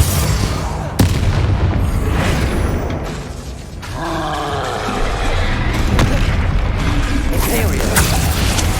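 Heavy spell blasts from Bombarda and Confringo in Hogwarts Legacy pound out in repeated, loud booms amid a constant roar of combat, with a voice speaking over the action.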